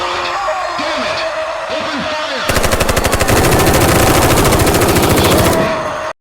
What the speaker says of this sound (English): Open fire! Several shots are heard